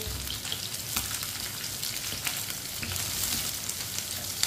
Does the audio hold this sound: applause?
no